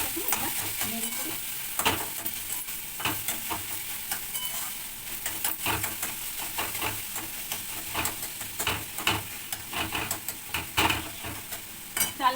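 Papaya is stirred as it fries in a pan, with repeated scraping and tapping strokes over a steady hissing sizzle, close up and quiet.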